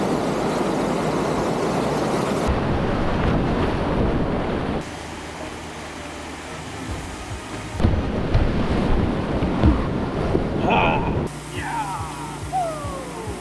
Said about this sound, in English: we had the main set of Bells Rapids, which are going to be the biggest rapids of the whole entire trip